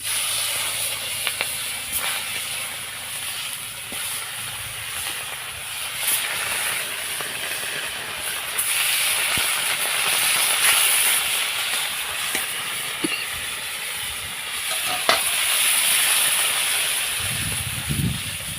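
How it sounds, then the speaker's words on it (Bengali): Fish coated in salt and turmeric fries in hot oil with a steady, continuous hiss and sizzle, broken by occasional crackles and pops, close and unbroken by speech. "এদিকে আমি মাছ ভাজা শুরু করেছি"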